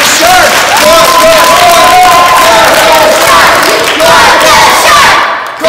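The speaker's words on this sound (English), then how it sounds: "Let's give a round of applause for Clark the Shark." Loud audience applause and cheering at a school book event, with a close crowd roaring, shouting and clapping all together and a few high voices rising above the din before a sudden cutoff.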